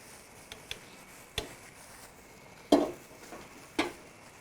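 A milk mixture for Umm Ali dessert stirred in a pot, a few sparse clinks and scrapes of a utensil against the pot over a quiet low hiss, close and soft, with no one talking.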